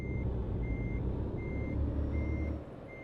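Reversing beeps from a truck in Euro Truck Simulator, a steady series of evenly spaced electronic tones sounding over a constant low engine rumble, with no talk.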